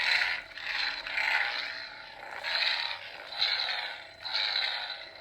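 A Force FX Kylo Ren toy lightsaber being swung, giving a series of about five crackly, buzzing whooshes that swell and fade in a steady rhythm, close and fairly loud with no talking.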